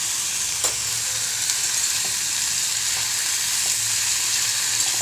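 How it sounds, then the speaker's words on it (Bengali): Ridge gourd frying in hot oil in a wok gives a steady, even sizzle with faint stirring clinks, continuous and close throughout with no voices. "তেল গরম হয়ে গিয়েছে, ঝিঙেগুলো কড়াতে দিয়ে দিলাম।"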